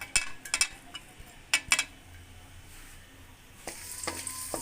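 Garlic cloves dropped into half a cup of hot oil for a daal masoor tadka, with a few sharp clinks from a utensil and then a steady close sizzle and crackle of frying.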